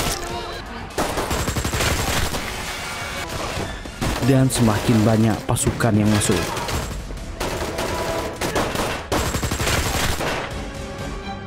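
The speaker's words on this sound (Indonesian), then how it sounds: "Tembak-menembak terjadi." Rapid bursts of gunfire and automatic weapons rattle continuously beneath a narrating voice in a film recap, with dramatic music and chaotic action noise.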